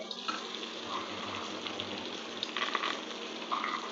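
Flour frying in a pan over low heat, a steady soft sizzle running throughout with a few brighter crackling bursts near the end; no one speaks.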